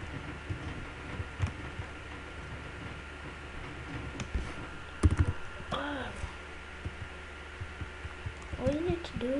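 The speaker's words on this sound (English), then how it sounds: "All you need to do is like just spam your keyboard and you try going in." A computer keyboard spammed rapidly while playing Roblox, quiet irregular clicks and taps scattered throughout, with a voice speaking briefly near the end.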